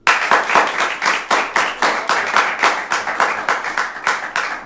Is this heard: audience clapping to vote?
yes